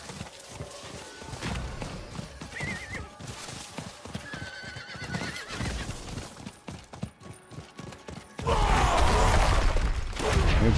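A horse in the video game Diablo 4 gallops with rapid rhythmic hoofbeats, neighs loudly near the start, then the hooves give way to a sudden loud rushing burst of game effects at the end.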